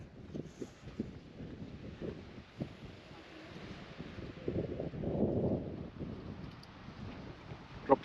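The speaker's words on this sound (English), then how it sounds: "it has been quite windy the last few days, as you might be able to hear" Gusty wind buffeting the microphone in low rumbling bursts, swelling loudest toward the middle, with faint muffled voices in the background.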